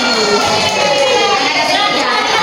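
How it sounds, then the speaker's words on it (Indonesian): A classroom group of children clapping during a primary-school mathematics lesson, a short burst of dense, loud applause with faint young voices mixed in. "Sekali lagi tepuk tangan sama Eci."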